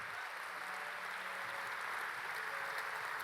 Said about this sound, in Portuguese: Dá mais um aplauso bem forte ao Senhor Jesus nessa noite